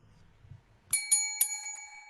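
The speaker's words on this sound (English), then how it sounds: "Must be the wind rang the bell." A doorbell rings in a stage reading of A Christmas Carol: a bright metallic bell sounds in a few quick rings, then its ringing tone decays, after a low faint murmur.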